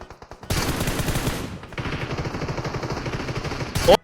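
Automatic gunfire in the mobile game PUBG Mobile, loud rapid bursts of rattling shots in two long strings with a short pause between.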